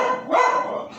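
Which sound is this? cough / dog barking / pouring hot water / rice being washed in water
dog barking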